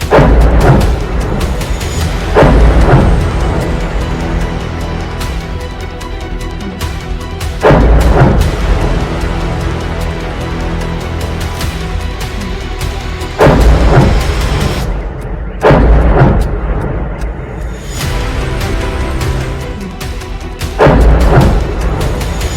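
Heavy explosions from an attack on the Russian Black Sea port city of Novorossiysk, with loud, deep booms erupting roughly every few seconds over a continuous rumbling background.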